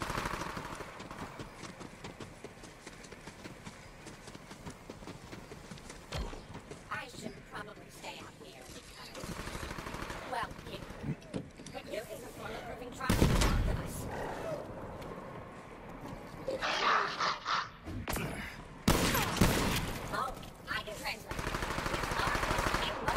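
Gunfire in the video game Borderlands 3 during a jungle side mission, with bursts of automatic fire and scattered loud shots over a busy game soundscape, with someone talking over it.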